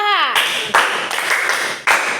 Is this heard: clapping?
yes